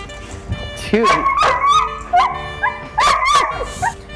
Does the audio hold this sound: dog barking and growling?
yes